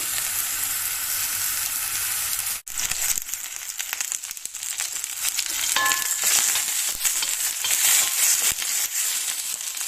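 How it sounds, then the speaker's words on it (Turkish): Meat sears on a hot sac griddle for sac kavurma with a loud, continuous sizzle and crackle of frying fat, close up, briefly broken by a short pause and a clink of stirring. "İlk etapta etlerimizi mühürlüyoruz."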